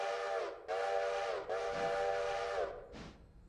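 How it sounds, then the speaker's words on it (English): A steam locomotive whistle in the train game Railroader sounds close and loud three times in succession, two long blasts followed by a short final toot, each a breathy, chord-like tone with hissing steam. "3 whistles for the indication that we are in reverse, heading backwards, heading on back."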